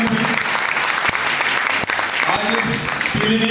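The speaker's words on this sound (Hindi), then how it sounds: "जोरदार ताली बजाइए" Loud, sustained applause from an audience at an indoor wellness-company meeting in Pilibhit, dense clapping filling the whole stretch with a few sharper claps standing out and a voice briefly audible beneath.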